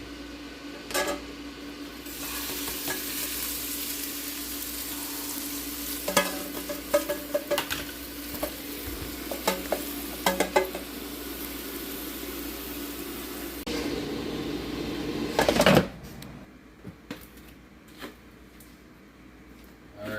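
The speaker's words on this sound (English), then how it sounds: "we're going to dump this chicken straight into the air frying pot" Chicken sizzles and crackles in a hot air fryer pot, with intermittent stirring clatters and scrapes, then the sizzle cuts off near the end.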